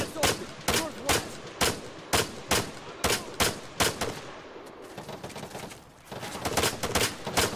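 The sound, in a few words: gunfire in a video game mission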